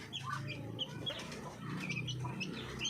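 Breeder hens clucking and making soft calls in a farm coop, several birds nearby giving short, scattered clucks over a low background murmur, with no talking.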